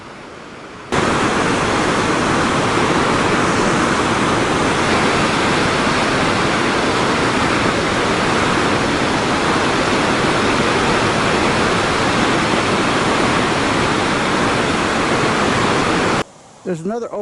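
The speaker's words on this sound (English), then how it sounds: "The falls go underneath these trees, and then you can see it coming out here." Waterfall pouring into a creek gorge in Alaska, a loud continuous broadband rush that holds steady for over fifteen seconds before cutting off abruptly.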